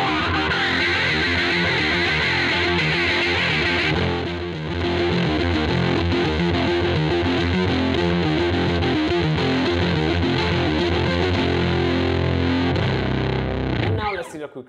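Bass guitar with a distorted, synth-like effect imitating MiniMoog sounds, played in the upper register as a continuous loud buzzy line with a brief dip early on, stopping abruptly at the end.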